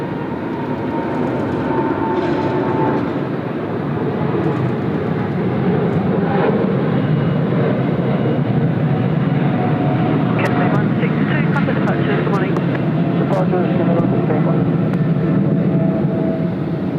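A Cathay Pacific airliner at Sydney Airport gives a loud, sustained roar with a broad jet rumble that swells and holds, and a voice talks over part of it.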